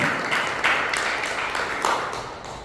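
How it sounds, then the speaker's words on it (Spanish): A church congregation claps during a Spanish-language sermon, the sound coming in uneven bursts of many hands with sharper individual claps standing out, fairly loud and close, fading slightly toward the end. "denle un fuerte aplauso al Señor"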